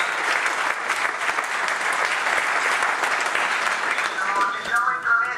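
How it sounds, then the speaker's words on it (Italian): Sustained applause from a seated audience at a sports talk event in Italy, a dense, even wash of many clapping hands, loud and steady for several seconds without a break. "Forse lei adesso sentirà l'applauso che la platea riserva per la disponibilità."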